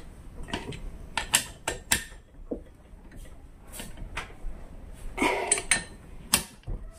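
Bolts being tightened with hand tools while a Yamaha outboard motor is reassembled, giving a series of close metallic clicks, ratchet ticks and creaks in irregular bursts, with no talk.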